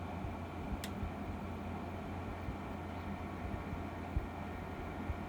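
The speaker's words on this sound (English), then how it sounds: "so now the compressor's on" A Frigidaire FHWW063WBE WiFi window air conditioner with its compressor running, a faint, steady low hum and broadband whoosh with one sharp click early on and a few soft pops later.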